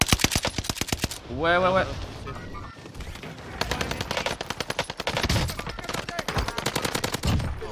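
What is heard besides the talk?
gunfire from an enemy team in the video game Warzone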